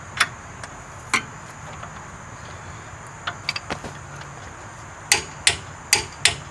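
A torque wrench tightens a ball joint bolt to 52 foot-pounds on the front lower control arm of a 2008-2013 Nissan Rogue. It gives a series of sharp metallic clicks in small bursts, with a brief pause between groups, over a quiet garage background.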